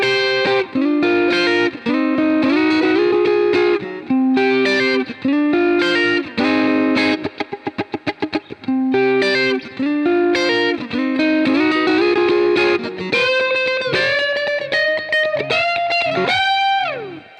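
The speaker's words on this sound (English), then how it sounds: "And it is the double stop section of the solo section." A distorted electric guitar plays the double-stop section of a solo, with rhythmic paired-note phrases, a rapid tremolo burst midway and sustained bends near the end, loud and without talking.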